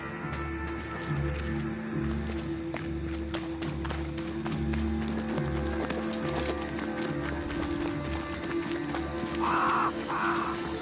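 Crows caw twice near the end over a busy backdrop of clip-clopping horse hooves and a steady low hum in Banishers: Ghosts of New Eden, the calls brief but distinct above the rhythmic hoofbeats.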